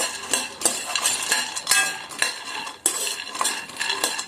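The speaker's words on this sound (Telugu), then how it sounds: "నెక్స్ట్ కాజు వేసుకుంటున్నాను. కాజు ఒక 2 మినిట్స్ వేయించుకుంటే సరిపోతుంది" A spoon stirs cashews frying in a pan, giving continuous scraping and clinking of metal with regular sharp knocks against the pan, close and steady.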